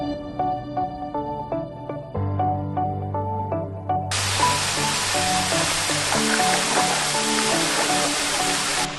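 A fast-flowing river on Koh Kood, Thailand, rushing in a steady broadband roar that swells louder midway, over a bed of music with plucked notes and low sustained tones, in light rain.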